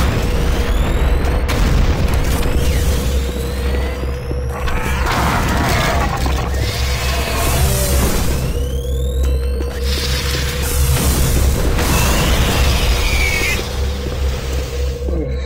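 Grenades going off during play in the video game Doom 3, heavy booms recurring over a constant loud mechanical game din with rumbling low end and sweeping tones, no voices.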